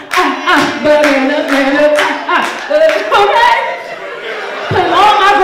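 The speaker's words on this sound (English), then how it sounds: "Give me a clap" A comedy-show audience claps in a steady rhythm, the sharp, regular claps set against voices chanting along and scattered laughter.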